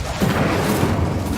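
Hogwarts Legacy's Incendio fire spell erupts as one loud, dense whoosh and rumble of flame that fills the short moment.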